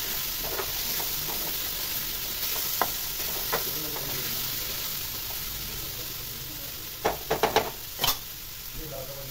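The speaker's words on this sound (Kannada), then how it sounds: "ಟೊಮೊಟೊ ಕೂಡ ಹಸಿ ವಾಸನೆ ಎಲ್ಲ ಹೋಗಿ ಸ್ವಲ್ಪ ಮೆತ್ತಗಾಗೋವರೆಗೂ ಚೆನ್ನಾಗಿ ಫ್ರೈ ಮಾಡ್ಕೋಬೇಕು." Chopped tomato frying in a pan with dry prawns and egg for a burji gives a steady, close sizzling hiss, with a few sharp utensil scrapes and clinks near the end.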